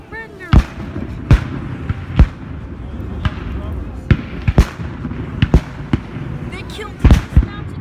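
Civil War reenactment battle with cannon and gunfire, sharp loud reports sounding irregularly every half second to second, some in quick pairs, while people shout and talk in the background.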